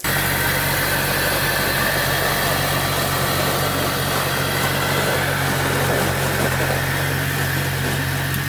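Engine of a cheap rock crawler built from a Jeep Wrangler, a loud steady rumble with a low throbbing idle that holds evenly throughout without talk.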